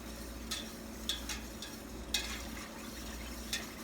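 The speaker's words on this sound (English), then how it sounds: "I start stirring the milk so it goes in" A spoon stirs milk in a pot to dissolve yogurt starter, with faint, evenly spaced light clinks against the side over a low steady hum.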